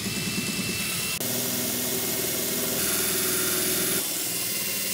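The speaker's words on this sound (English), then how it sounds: "This drill needs an alignment, bro." A power drill runs steadily and loudly during aftermarket seat rail installation in a Nissan Silvia, its pitch shifting slightly partway through with no voices present.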